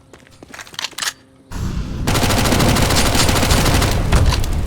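Gunfire in the video game Counter-Strike: Global Offensive: a few sharp shots ring out at first, then after a brief lull a loud, sustained burst of rapid firing and blasts fills the rest.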